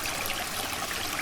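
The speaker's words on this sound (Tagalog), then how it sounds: "tunog ng tubig" Flowing stream water beside a creek where people are eating outdoors; a steady, close hiss of running water fills the short moment on its own, with no talking.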